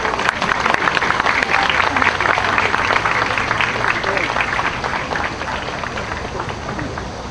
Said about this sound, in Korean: 여러분들 또 나오셨지만 한 번 더 박수로 맞아주시죠